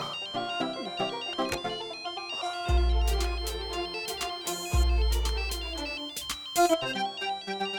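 A mobile phone ringtone for an incoming call plays a bright, looping electronic melody with steady beeping notes and deep bass thumps underneath, clear and continuous throughout, with no one speaking.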